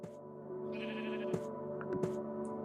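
Minecraft sheep bleating, a couple of short nasal bleats over a steady tonal game background with soft clicks, fairly quiet and without talk.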